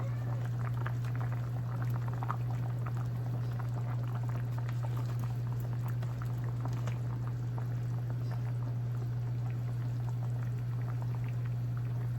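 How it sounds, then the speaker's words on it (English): Sausage hits a pot of smothered okra, giving a continuous bubbling simmer with soft liquid crackle and a steady low hum throughout, no voices. "Now we're gonna add our sausage in there."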